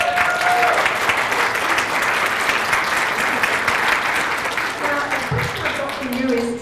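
An audience at a mental health symposium panel applauds to welcome the host, with dense, loud, sustained clapping throughout and a few voices speaking underneath near the end.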